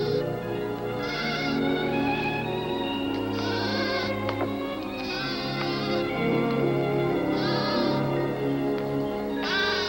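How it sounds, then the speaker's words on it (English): Goat bleating from a cartoon soundtrack, several wavering high cries spaced out over a bed of orchestral music. "Oh, that poor little goat."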